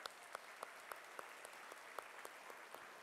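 Faint, steady applause from a crowd at an electric cooperative's annual meeting, with several individual claps standing out in a regular rhythm, heard at a distance.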